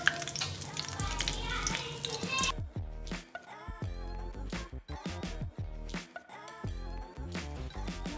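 Chilli bajji, battered green chillies, fry in hot oil with a busy crackling sizzle that carries on throughout, broken by clattering stirs and scooping sounds close by.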